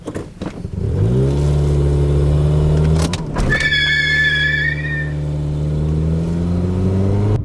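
A Toyota Corolla running on vodka-laced fuel rolls in reverse: a steady engine drone and whine that rises gently, with a brief squeal partway through, close and loud.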